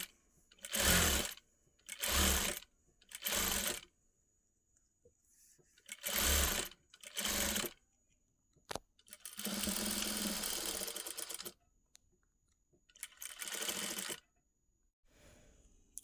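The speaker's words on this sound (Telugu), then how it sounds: "ఇదేలాగా చుట్టూ కుట్టుకుంటూ రావాలి డబల్ స్టిచ్." A sewing machine runs in short bursts, stitching double-stitch thread piping around a cloth edge, its fast mechanical whir starting and stopping in about eight spurts of varying length, close and clear with no talk.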